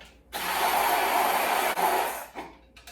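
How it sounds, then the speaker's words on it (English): A stick blender whisks an egg and water mixture for chicken breast, a loud steady motor whir lasting about two seconds with one brief dip in the middle, then it switches off. "I like using a stick blender because it's quick"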